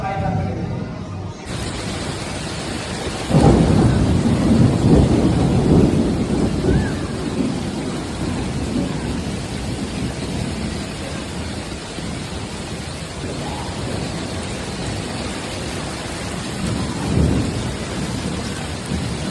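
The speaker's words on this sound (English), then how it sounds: "the heavy rainfall was compounded by hail" Heavy rain with thunder over Tokyo during a storm with hail: a steady loud rain hiss throughout, with deep rumbling thunder swelling around the middle and again near the end.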